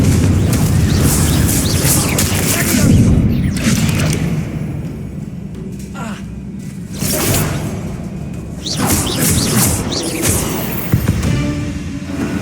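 Expelliarmus and Confringo spell blasts in Hogwarts Legacy, loud whooshing casts followed by booming, rumbling impacts in several waves, with little speech over them.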